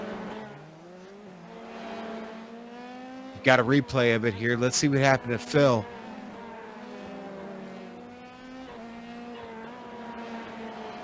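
Formula 3 race cars in a racing video game at Zandvoort's turn 8 rev in a short, rising burst of engine whine for about two seconds, set against steady commentary that carries on before and after.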